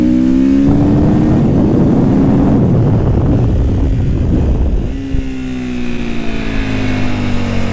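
Sherco 500cc supermotard motorcycle on a test ride, its engine revving hard and loud with rising pitch sweeps, easing off briefly near the end before pulling again, no talk over it.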